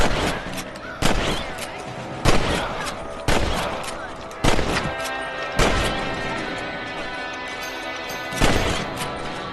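Rifle shots ring out in Red Dead Redemption as rabbits are shot on a ranch property. About eight loud, sharp cracks fire at irregular intervals, each trailing off in a short echo.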